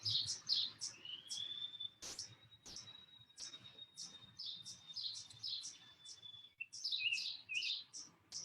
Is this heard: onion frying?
no